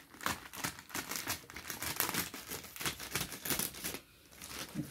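Scissors or a blade cut through Amazon plastic wrapping on an LG 29UM69 ultrawide monitor box, giving a quick, rapid run of crinkling and snipping close by, with a brief pause near the end.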